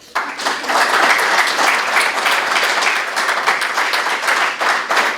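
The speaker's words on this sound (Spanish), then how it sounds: "Démosle un aplauso." An audience at a political leadership talk applauds, with dense sustained clapping that starts abruptly and holds steady for several seconds.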